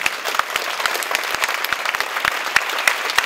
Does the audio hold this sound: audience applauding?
yes